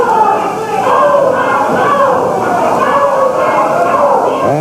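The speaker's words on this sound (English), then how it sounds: "the crowd picking up the chant, "Go Tiger, go."" A wrestling arena crowd chants in unison during a 1985 Championship Wrestling from Florida match, a loud, rhythmic wall of voices.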